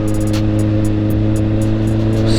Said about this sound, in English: This biker found out instantly that lifting the front wheel on the street is a bad idea